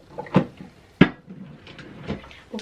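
A bathroom vanity drawer being shut, giving several sharp wooden knocks: a loud thud early on, a second hard bang about a second later, then softer rattles and a fainter knock, close by with no talking.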